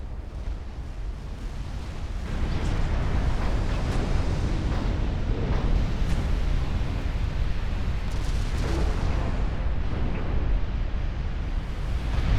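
A torpedo strikes a warship in the naval strategy game Ultimate Admiral: Dreadnoughts, giving a deep rumbling blast that swells after a quiet start and rolls on heavily like surf for many seconds, without talk.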